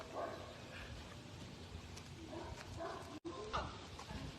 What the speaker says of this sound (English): There we got all 4 dogs.